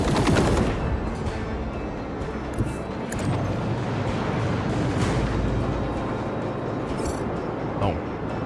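Gunfire from the video game Rogue Trader, a dense, sustained barrage of loud shots and booms rattling on for several seconds in a turn-based battle, with a voice speaking over part of it.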